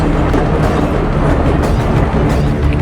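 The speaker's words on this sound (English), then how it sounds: "All right, train's coming, let's go." A train rumbles loudly and steadily across the Nine Arch Bridge in Sri Lanka, a close, continuous roar with rail clatter and no speech.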